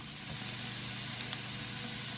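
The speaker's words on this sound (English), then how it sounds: "And then we're going to start sauteing our veggies." Onions and celery sizzle steadily in a large pot for a seafood boil, a continuous close frying hiss with a few faint stirring clicks.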